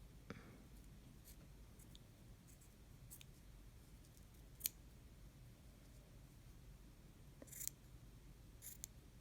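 Small scissors trim an embroidery floss pom pom, making faint, sparse snips and clicks scattered over a quiet background, with a couple of sharper cuts standing out.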